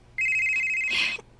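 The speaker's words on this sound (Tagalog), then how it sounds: "Nanawag naman sa Miss Lily" An electronic telephone ring sounds as a sustained, loud warbling tone, heard as one continuous burst about a second long that cuts off abruptly, with no talk over it.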